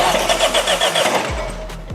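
A 2024 BMW X1 (U11) being rebuilt after a wreck cranks over without firing: a steady starter whir with rhythmic churning pulses, close and fairly loud, then it stops.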